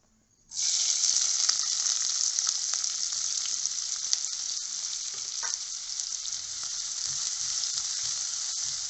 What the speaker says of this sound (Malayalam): ഇനി നമുക്ക് ഈ സവാള കുറേശ്ശായിട്ടൊന്ന് വറുത്ത് കോരാം.